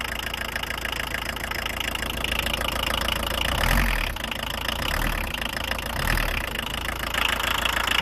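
A car engine idling steadily with the brake on, a continuous mid-to-low rumble with a faint knocking texture, heard close and alone without talk.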